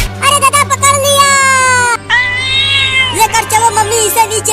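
A cat gives loud, close, drawn-out meows, two long wavering cries followed by shorter chattering mews, with a voice mixed in.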